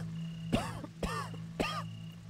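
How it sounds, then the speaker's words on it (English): Three rough coughs from a character in the video game Next Day: Survival, in a steady rhythm, close and fairly quiet, over a low constant hum. "I'm still coughing pretty bad"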